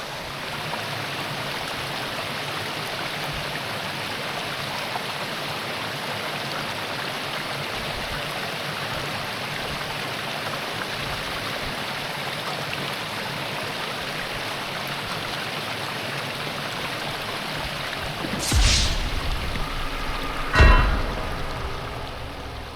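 Water rushing steadily along a flood-worn creek on a mountain backpacking route, a dense, even broadband wash running throughout, with two sharp brief knocks near the end.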